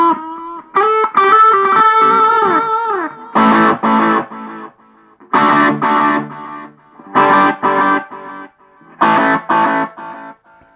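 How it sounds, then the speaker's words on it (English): Distorted electric guitar notes through a tiny Flatsons FBA 10 amp's delay effect, followed by rhythmic repeating bursts, each phrase echoing back several times in evenly spaced repeats that fade between them. "It's a delay."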